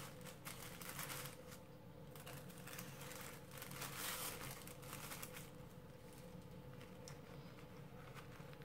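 A plastic bag rustles and crinkles steadily while a parcel is unpacked, close and continuous throughout, over a low background hum.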